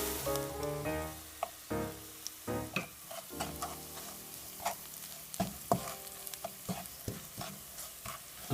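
Sliced chili peppers are stirred into browned garlic in a pan for sweet and spicy tuyo, with a steady soft sizzle of frying. Close scraping and tapping of a utensil sounds throughout.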